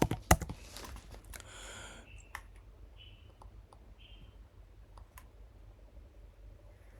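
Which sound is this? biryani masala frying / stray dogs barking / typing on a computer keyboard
typing on a computer keyboard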